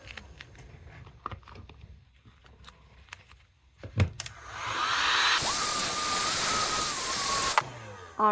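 Air blown onto a glued DIY sandal sole until the adhesive turns tacky: after light handling noises and a few knocks, a loud, steady dryer-like whoosh with a faint tone runs for about two seconds and then cuts off.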